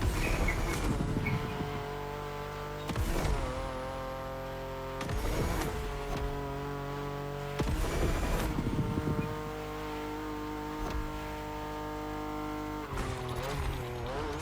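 A BMW's engine drones and revs on a race track in The Crew Motorfest, rising in pitch and then dropping at repeated gear changes. It is steady and fairly quiet, with no clear talk.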